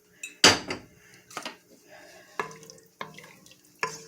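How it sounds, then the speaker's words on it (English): Red beans being stirred in a cooking pot with added water, giving several scraping, clinking strokes of a spoon against the pot in an irregular rhythm, close and moderately loud. "Give that a good stir."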